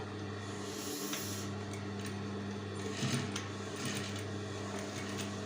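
Sewing machine running steadily while stitching patchwork quilt pieces together, a continuous mechanical hum with light ticking, close and alone with no talk.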